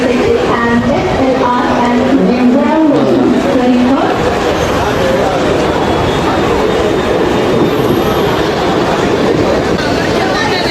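A train rumbles and clatters into crowded Thane station, with a steady roar of wheels on track and crowd noise around it.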